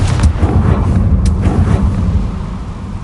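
A Confringo fire spell goes off in the Hogwarts Legacy video game as a loud, dense low-end boom with crackling bursts, rumbling for a few seconds before slowly easing.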